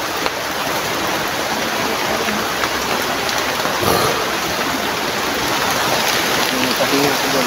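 Steady, dense rain falls on a house, a loud, even hiss throughout with no breaks, with occasional voices underneath.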